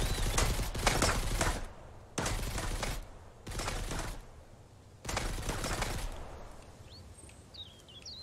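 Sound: bandits shooting in video game Mist Survival

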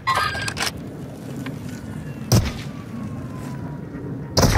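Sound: gunfire from enemies in a video game

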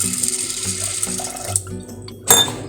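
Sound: washing chana dal (split chickpeas) with water

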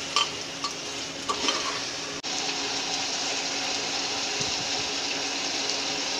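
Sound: stirring aloo tinde sabzi in a pan

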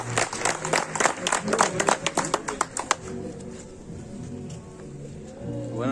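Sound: applause for a fireworks artisan

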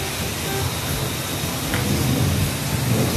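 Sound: rain and thunder in City Square

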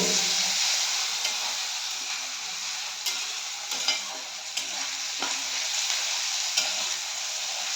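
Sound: stirring and frying goat meat curry with onion and spices

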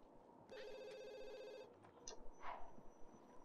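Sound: telephone ringing in life-simulation video game

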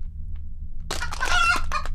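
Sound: chicken clucking in horror video game Tamagorudo

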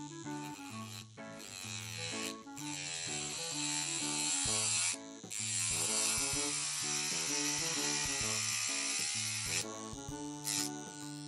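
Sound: electric nail drill running in reverse

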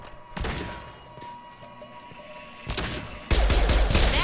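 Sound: gunfire in the video game Mass Effect 2

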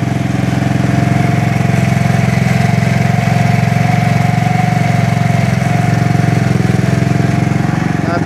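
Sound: big bore GY6 150cc scooter engine idling

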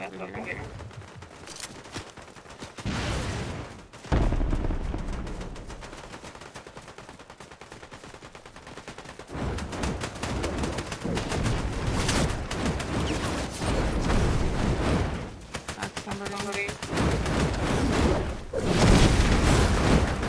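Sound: gunfire, people shooting

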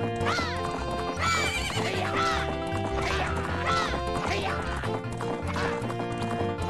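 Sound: horse galloping and neighing in video game Zelda Majora's Mask

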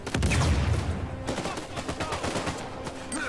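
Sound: gunfire from enemies in video game Uncharted 4

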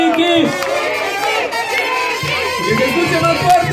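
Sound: carnival crowd applauding and cheering

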